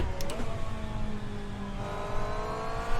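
Engine note of a Porsche 963 LMDH prototype race car in the Assetto Corsa racing game, a sustained whining drone with shifting tonal harmonics as revs rise and fall, moderately loud and alone without talk.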